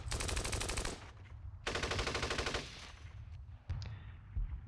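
Two long bursts of machine gun fire in the Steel Panthers wargame, set in an Iran-Iraq war 1980 battle, loud and rapid, followed by a shorter burst and scattered game sounds.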